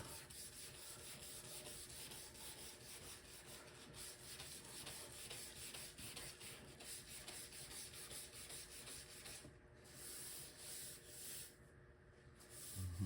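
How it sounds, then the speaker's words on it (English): Steady, faint rubbing and scratching of 800-grit sandpaper worked back and forth over the paint of a 1966 Ford Mustang body, continuous and close, with no voices. "Let me see if I can take care of them with the 800 grit."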